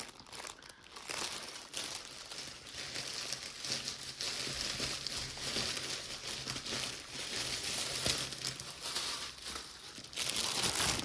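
A parcel is torn open and its packaging crinkled and rustled, with continuous close crackling plastic or paper handling for about eleven seconds and a louder burst near the end.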